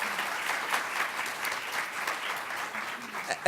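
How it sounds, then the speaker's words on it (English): An audience applauds the on-site staff at a career services advocacy gathering, a soft, even wash of many clapping hands heard from some distance, steady and moderately faint across the whole stretch. "But Trudy, for you and the wonderful on-site staff here, a big round of applause."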